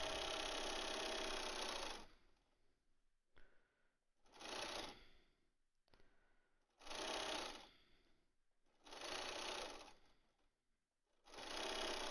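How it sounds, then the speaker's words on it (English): A sewing machine stitches bias binding onto a fabric mask in five loud, evenly spaced runs of rapid whirring, each lasting about a second and separated by quiet gaps. "I'm sewing right side of bias to wrong side of mask."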